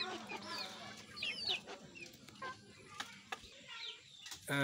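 Native chickens kept in a small cage give soft, repeated clucks over a steady rustling, muddy background, with faint chirps and a sharper sound near the end.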